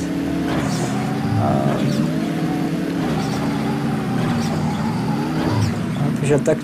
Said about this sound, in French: je suis à fond sur l'accélérateur